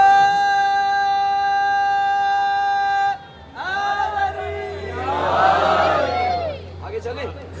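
At a religious gathering, a single voice holds a long, steady sustained call, then a large crowd answers with a loud, rising shouted religious slogan that peaks and fades, and a few scattered shouts follow.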